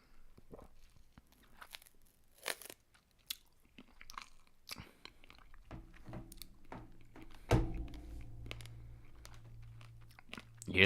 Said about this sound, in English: of me eating a snack